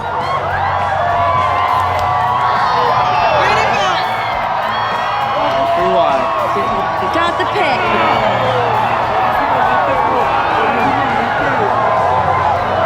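A large outdoor crowd cheers and whoops at solar eclipse totality, sustained excited shouting with high individual yells rising and falling across the whole stretch, while a voice talks briefly.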